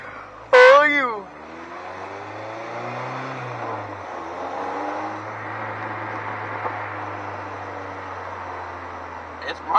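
A 1987 Pontiac Fiero GT with a Honda K20 engine swap drives along, its engine humming steadily at moderate distance with gear changes and rising pitch, while people talk excitedly over it.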